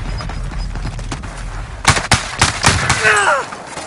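Video game gunfire: after a quieter start, a run of loud, sharp shots and rapid bursts crackles close by for the last two seconds.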